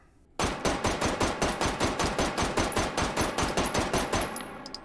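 Rapid string of about twenty gunshots fired two-handed from a gun fitted with a compensator, loud sharp evenly spaced cracks in quick rhythm, ending in faint ringing.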